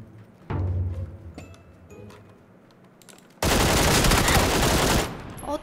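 Gunfire in a shooter video game: a couple of single shots early on, then a loud sustained burst of automatic fire lasting over a second before cutting off.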